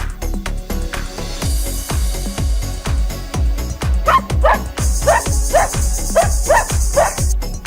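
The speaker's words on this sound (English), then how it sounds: "Dog, this is dog." A battery-operated toy dog gives a rapid series of short, electronic yips and barks, about a dozen evenly spaced mechanical bursts that grow higher and whinier toward the end, loud and close.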